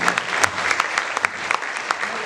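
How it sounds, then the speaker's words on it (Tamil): An audience at a movie audio launch event gives sustained applause, a steady dense clatter of clapping with sharper individual claps standing out throughout. "ஸோ அவங்களுக்கு ப்ளீஸ் ஒரு கரகோஷம் கொடுத்தா."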